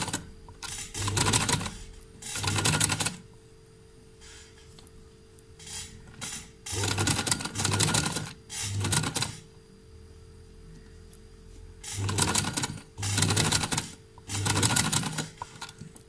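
A sewing machine stitches piping into a fabric seam, running in repeated bursts of rapid, close mechanical clatter separated by short pauses, with no talking.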